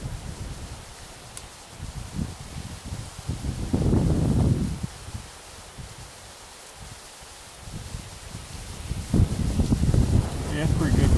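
Wind gusts outdoors at a long-range rifle range, rising in two rough bursts of buffeting microphone noise and rustle, settling to a lighter breeze between them.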